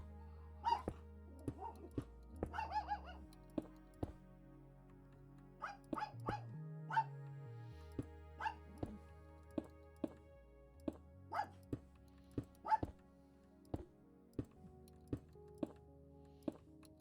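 Pet dogs barking during a Minecraft play session, with repeated sharp barks and yips scattered across the stretch, some louder and some fainter, heard alone over quiet game sound.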